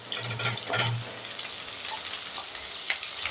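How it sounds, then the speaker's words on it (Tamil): Small onions sautéing in oil in a pan for a drumstick curry, giving a steady close sizzle with a few brief stirring scrapes, with no talk. "வெங்காயம் ஓரளவுக்கு வதங்கட்டுங்க."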